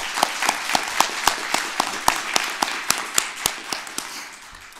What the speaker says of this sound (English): Let's have a nice round of applause for our awardees.